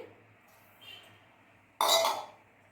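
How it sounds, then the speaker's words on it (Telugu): Ginger dropped into a steel mixer-grinder jar, a soft tap followed by a sharp, bright clink of pieces hitting metal partway through, then quiet. "ఇందులో మిక్సీలోని అల్లం మిక్సీలో వేయాలండి."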